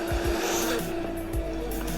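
A Nissan 240SX race car with a KA240 engine drifts in rain in the Assetto Corsa video game. The engine roars loud and steady, and the tires squeal and scrub continuously, with no one talking.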